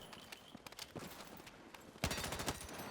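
An MPX submachine gun in Battlefield 6 fires on a firing range, first in short scattered bursts, then in a loud, rapid sustained burst of close shots near the end.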